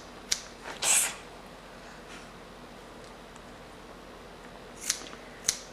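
Hair being trimmed with scissors during a haircut: a few short, crisp snips, two early and two near the end, with a brief rustle between, close and fairly soft against a quiet room.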